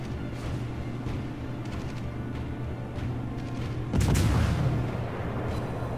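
Naval guns fire during a World of Warships battle, a heavy boom landing near the four-second mark over a constant low engine and ambient rumble, with fainter distant shots scattered before it.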